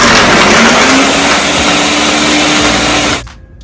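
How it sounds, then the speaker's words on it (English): A Ninja blender churns a thick peanut butter smoothie with a loud, steady, whirring roar close to the listener, then cuts off abruptly near the end. "now we're going to blend this. This is a Ninja blender."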